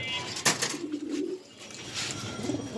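Pigeons coo softly at a pigeon farm, a few low throaty calls close by, with light rustling and movement around the birds.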